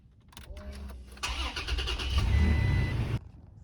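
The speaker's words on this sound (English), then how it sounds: "I've got the car turned on" A DIY truck camper's engine cranks in a few rapid starter pulses, then catches and roars into a loud, steady close-up run that swells slightly before cutting off abruptly after about two seconds, with no one talking.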